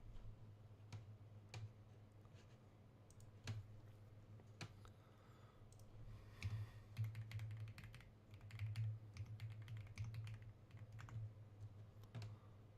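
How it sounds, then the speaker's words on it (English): Computer keyboard typing in quick, uneven bursts of soft clicks over a steady low hum, with no voices. "I got these fat fingers, dude. I suck at typing."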